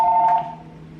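A telephone gives a single short electronic ring, a bright two-tone trill that lasts a fraction of a second and then fades into a quiet hum.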